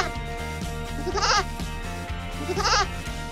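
Goat bleats twice in a goat yoga session, wavering cries about a second apart and a second long, heard close over steady background music.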